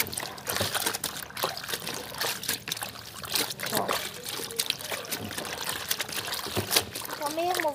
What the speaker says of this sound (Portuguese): Coloco um pouco mais de água antes de trocar.